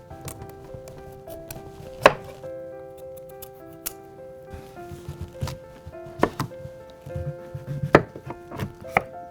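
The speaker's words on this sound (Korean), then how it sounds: "좀 더 단맛을 주기 위해 호박을 얇게 썰고 설탕에 절여준다" Pumpkin sliced thinly with a knife, a few sharp, distinct cuts spaced irregularly over a quiet, faintly tonal background, close and without talking.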